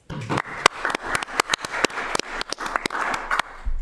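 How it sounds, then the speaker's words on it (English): A city council meeting audience claps in a sustained round of applause, dense sharp claps throughout, fairly close and steady with no talking. "I think we also owe Alderman Gay a round of applause for getting this program started"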